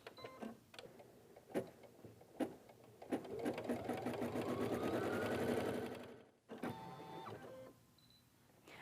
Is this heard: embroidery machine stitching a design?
yes